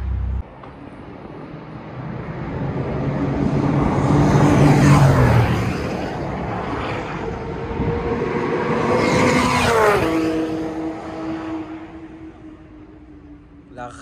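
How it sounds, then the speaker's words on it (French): A Porsche GT3 RS engine revs hard twice, each rising howl climbing in pitch and then dropping away, loud and close, with quieter idle between the bursts. "Rafale du GT3 RS, mec, c'est incroyable."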